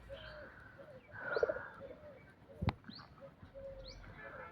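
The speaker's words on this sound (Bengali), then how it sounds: "এখন দেখতে পাচ্ছ 8টা পায়রা" Pigeons giving soft cooing calls in a fog-bound loft during feeding, faint and intermittent against a quiet background, with one sharp knock partway through.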